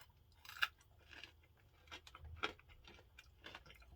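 A hard, crunchy snack is bitten and chewed, giving a few sharp crunches spaced apart over a quiet background, close and faint, with no talking.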